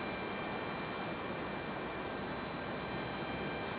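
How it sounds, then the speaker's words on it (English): An American Airlines A321 jet arrives at Raleigh Durham International on a stormy day, its steady, loud engine roar constant and close throughout, with no voices. "Next arrival is American Airlines 1904 coming in from Charlotte."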